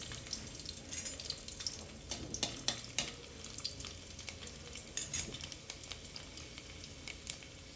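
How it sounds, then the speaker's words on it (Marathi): Garlic dropped into hot oil in a pan for a spicy Maharashtrian cabbage bhaji, giving a steady close crackling sizzle with scattered clinks of a stirring spoon throughout. "तेल तापलाय. आता आपण लसूण टाकूया."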